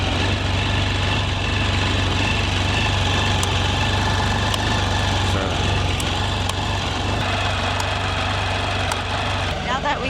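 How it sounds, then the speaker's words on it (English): A Can-Am Spyder three-wheeled motorcycle idles steadily for the whole stretch, a constant low engine drone with a mechanical hum and occasional faint clicks, close and fairly loud. "So we will turn on our motorcycle and test the switch and fog lights."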